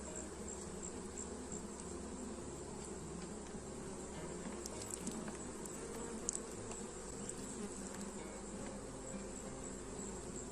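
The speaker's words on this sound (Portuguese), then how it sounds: "Aqui o suco sobre as abelhas." A weak bee colony, just sprayed with tangerine juice, buzzing as a dense, steady drone that stays close and constant throughout, with faint scattered clicks over it and no talking.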